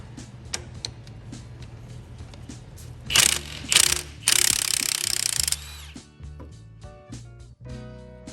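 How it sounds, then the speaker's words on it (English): An impact wrench works loose a cylinder head nut on a 1930 Ford Model A engine, firing in a few loud hammering bursts, the longest near the middle, over clinking tool and metal sounds. "So I'm going to switch to an impact."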